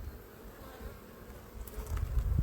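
Honey bees buzzing at an open hive while a frame of bees and brood is handled, a steady near drone with some low rumbling handling noise toward the end.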